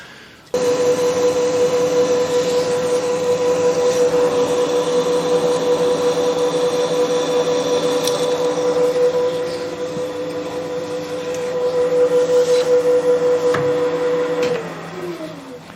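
Machine cutting holes through metal held in a vise for a tailstock tool rack, starting abruptly with a loud steady whine and grinding hum that dips midway, swells again, then stops near the end.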